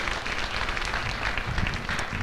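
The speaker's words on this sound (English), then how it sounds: "How about a round of applause for those guys?" A school audience at a district bands night applauds for the players, a dense steady burst of clapping filling the whole moment with no pause.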